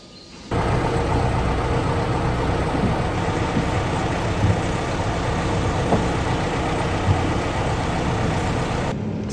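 Merlo telehandler on a beef and sheep farm, carrying 600-kilo bags, with a steady engine drone running throughout at a constant level, no talk over it.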